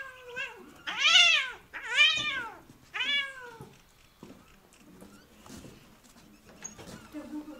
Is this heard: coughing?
no